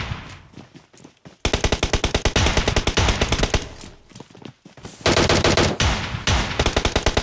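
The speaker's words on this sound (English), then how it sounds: "Lots of gunshots, but nothing's landing at the moment" Rapid bursts of machine-gun fire in PUBG Mobile, loud and rhythmic, with several long sustained volleys separated by brief pauses.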